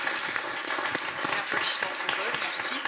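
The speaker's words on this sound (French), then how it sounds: "Un applaudissement pour" An audience at a poetry anthology event applauds steadily, a dense, moderately distant patter of many hands clapping that holds for the whole stretch.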